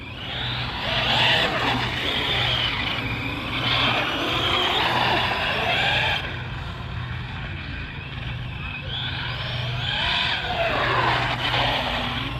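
An Arrma Big Rock RC truck power slides, its electric motor whining in rising and falling sweeps with tire scrub on the surface, loud and close, with a steady low hum underneath.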